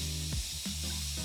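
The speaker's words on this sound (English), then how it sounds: "I just spray my heckin' orchids until they're watered" Spray bottle misting potted orchids indoors as a houseplant chore: a few short, soft hissing spritzes in quick succession, close and fairly quiet, with no talking.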